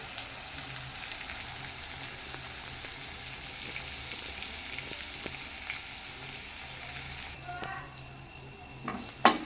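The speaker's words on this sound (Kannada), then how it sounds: "ಎರಡು ಕಡ್ಡಿ ಕರಿಬೇವು, ಈ ಕರಿಬೇವು ಹಾಕೊಂಡ್ಮೇಲೆ ಜಜ್ಜಿರುವಂಥ ಬೆಳ್ಳುಳ್ಳಿನ ಹಾಕಬೇಕು." Curry leaves and crushed garlic fry in hot oil with a steady, soft sizzle throughout, and a brief sharper crackle and clatter of a pan near the end.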